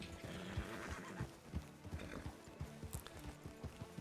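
Several horses walk at an easy pace, their hooves clip-clopping in a steady, close, uneven rhythm over a soft background murmur, with a brief whinny-like call.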